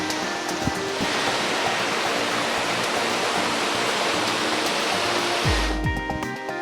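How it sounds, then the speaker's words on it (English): A loud, steady roar of a waterfall on Sweet Creek Falls Trail, Oregon, fills the scene, constant and close, with a brief low thump near the end. "Waterfall number 3."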